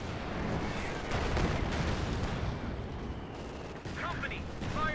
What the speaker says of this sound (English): My two priests are going in for an artillery barrage.